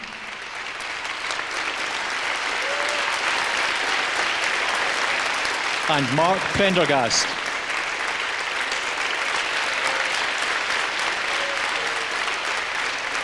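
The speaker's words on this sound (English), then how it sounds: "I'd like to give them a quick round of applause just to get them warmed up for this evening" A concert audience applauds soloists at a schools brass band and choir concert, clapping strongly and steadily throughout while a presenter's voice briefly announces a name partway through.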